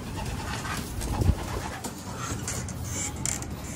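Birds calling and cooing in a steady outdoor chorus, fairly close, with a low constant background hum and no talking.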